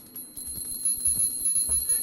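Chiming bells ringing repeatedly in the modded Minecraft game SevTech Ages, a steady run of bright metallic strikes over a low drum-like thump in the game's background music, with no talking.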